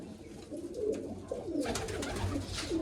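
Pigeons kept at a loft coo in low, rolling calls, several overlapping phrases repeating close by over a steady background.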